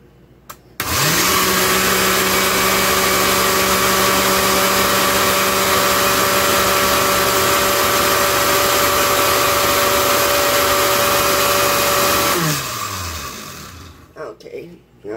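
A blender running on medium through cayenne-seasoned sauce ingredients for eggs Benedict, a loud steady whirring drone that holds for about twelve seconds, then winds down and stops with a few clunks.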